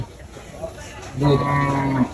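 A single loud, close cow moo at the Kachukhet cattle market in Dhaka, rising out of crowd murmur about halfway through and holding to the end.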